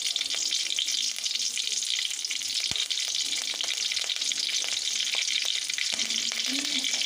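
Tomatoes frying in hot oil for a Tamil fish kulambu, giving a steady, close, loud sizzle throughout with occasional stirring scrapes and no talk.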